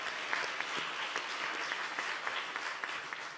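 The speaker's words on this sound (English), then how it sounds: "Can we just give them a round of applause?" Steady audience applause at an evening human rights awards celebration, a dense wash of many hands clapping continuously without a break, fairly loud and close, with no voices on top.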